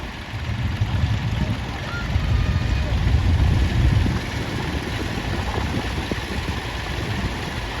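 A very early vintage Field Marshal tractor engine idling with a low, steady chug at a steam fair ring parade, rising slightly for a moment then settling, with outdoor background noise.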